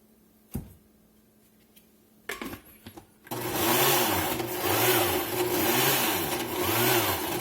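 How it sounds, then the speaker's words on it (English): A kitchen blender whirs loudly and steadily as it purees chimichurri sauce with olive oil, with a pulsing, churning rhythm as the mixture splashes up the sides of the glass; brief clatter and handling noises come just before the motor kicks in. "when your blender starts blowing it up the side of the glass like that right there, you got the right amount of oil in there"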